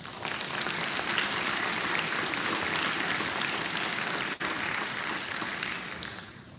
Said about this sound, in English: If we all could please give the class of 2019 a round of applause.